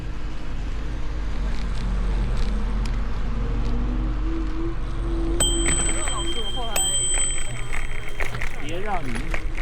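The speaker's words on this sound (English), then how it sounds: "You're ringing my bell often." A bicycle bell rings out briefly a couple of times during an outdoor ride in Central Park, sharp metallic dings over road and wind noise with someone talking.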